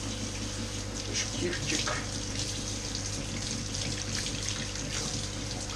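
Aquarium filter parts, blade by blade, are rinsed under a running tap, a steady, moderately quiet gush of water with splashing as the pieces are handled, and a brief spoken word.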